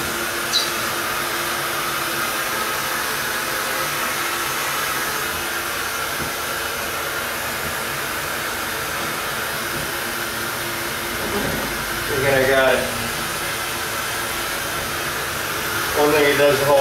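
Heat gun blowing hot air across a car's 3M protective film to soften it for removal, a steady broadband roar held close and loud throughout, with a couple of brief clattering scrapes near the end.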